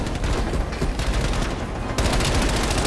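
Dense automatic weapon fire rattles nonstop in a Call of Duty: Black Ops Cold War campaign battle on PlayStation 5, growing louder and heavier about two seconds in, with no voices.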